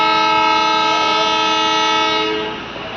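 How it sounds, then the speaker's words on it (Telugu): A DEMU passenger train on the Raichur–Guntakal line sounds a loud, sustained horn as it pulls away from Nagaruru station, the steady blast holding for about two and a half seconds before fading, with rail rumble beneath. "నగరూరు నుంచి అయితే మన ట్రైన్ బయలుదేరింది."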